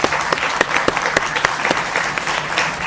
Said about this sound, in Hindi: इस देश की मातृशक्ति के लिए जोरदार तालियां भाई